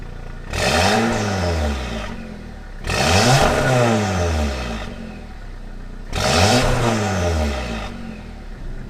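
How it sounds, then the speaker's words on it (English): A Volkswagen/Audi MQB-platform car (A3/S3/Golf Mk7) with an aftermarket exhaust revs hard three times in separate bursts, each rising to a throaty exhaust roar and then falling back to idle. "give you guys some clips as a point of reference so you can kind of showcase these different variations of exhaust tone"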